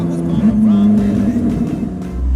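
A Koenigsegg Jesko pre-production hypercar engine drones steadily and shifts in pitch on a track, close and powerful, with a brief voice underneath.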